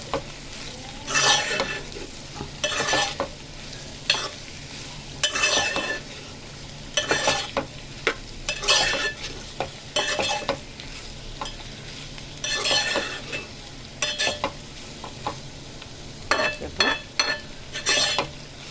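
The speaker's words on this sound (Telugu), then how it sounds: "ఫ్రై అయిన తర్వాత మనం ఇలా కలుపుకుందాము." Fried bitter gourd (kakarakaya) sizzles in a pan as a spoon stirs it in repeated scraping bursts, with metallic clinks against the pan, close and without talk.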